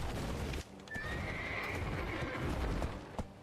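A horse neighs with a drawn-out whinny over busy clip-clopping hooves in a video game, set amid dense game noise with sharp thumps near the start and end.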